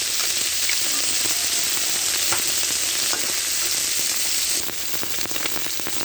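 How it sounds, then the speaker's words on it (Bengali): Danna and parshe fish frying together in hot oil give a loud, steady sizzle and crackle with scattered pops, close by, continuous throughout with no voices. "দান্না মাছ, পার্শে মাছ একসাথে ভেজে নিয়েছিলাম।"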